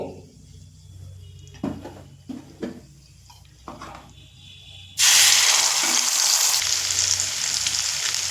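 Spice paste hits a hot pan for a cabbage dish. A few utensil clunks come first, then a sudden loud, steady sizzle of frying takes over and keeps going.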